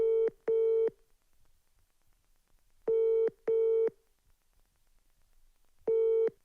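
A landline call in progress plays a loud, close electronic tone in pairs of short beeps separated by silent gaps, repeating three times like a ringing or busy signal, with no voices.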